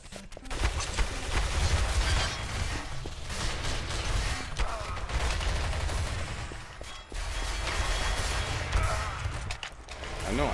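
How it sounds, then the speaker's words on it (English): Rapid automatic gunfire from a Counter-Strike: Source match on a 200-tick server, dense and continuous bursts of shots rattling almost without pause, loud and close, with brief gaps between volleys. "You see somebody firing an auto, like a auto, what do you call it? Auto sniper?"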